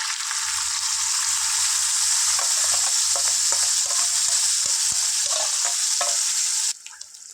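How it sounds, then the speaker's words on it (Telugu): Cumin, curry leaves and a spice paste fry in a pan for a stuffed brinjal curry, a bright steady sizzle broken by repeated spoon scrapes and knocks, cutting off abruptly near the end. "వేసుకొని దీన్ని ఫ్రై చేసుకుందాం ఒకసారి ఫ్రై చేసుకుందాం"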